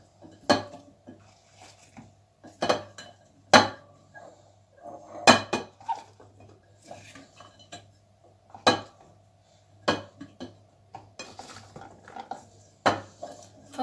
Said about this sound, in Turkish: içerisine ilk önce böyle fasulyeleri kenarlarına gelerek gelecek şekilde dizeceğim.